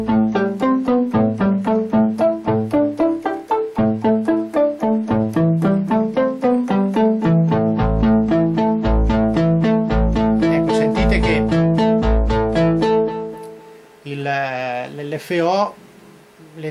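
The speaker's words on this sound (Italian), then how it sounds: "questo suono è un suono di basso usando due oscillatori, due onde quadre col sub su tutti e due gli oscillatori" Arturia MatrixBrute synth bass arpeggio built from two square-wave oscillators with sub-oscillators, the ladder filter slowly swept by a clock-synced LFO, with delay; a fast, steady stream of repeating pulsed notes plays prominently and ends in a brief final burst.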